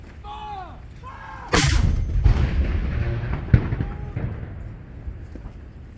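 An artillery cannon fires one deep, booming round in a 21-gun salute at a rainy Remembrance Day ceremony, rolling and echoing away afterward, with distant shouted commands before the shot.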